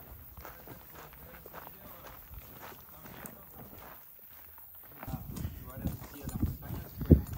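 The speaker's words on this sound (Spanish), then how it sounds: "aquí es un caballo" Hooves of a horse clip-clopping along a street in Alegría, with steady footfalls that grow louder and closer toward the end, heard under background chatter.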